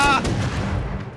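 Gunfire in the video game Rust, a single heavy close shot with a long rumbling tail, its reverberation fading over about a second.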